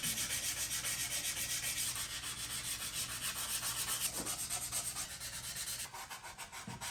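A resurfacing tool scrubs rust from the top of a Chevy K10 engine block in quick, even back-and-forth rasping strokes, close and fairly quiet, with a short pause near the end.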